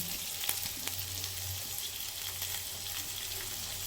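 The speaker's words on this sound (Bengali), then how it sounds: "ক্যাপসিকাম আর ভিমস আর রসুন এখন এটা সবজিটাকে ভেজে নেব" Capsicum, beans and garlic fry in a pan for restaurant-style chilli chicken, giving a steady, close hiss of sizzling oil with faint stirring clicks and no voices.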